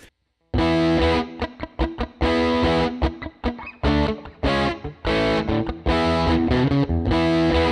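Electric guitar through a Fender '57 Bandmaster amp, driven into a distorted, chorus-tinged tone, plays loud chords and short riffs with brief gaps between phrases, no talking.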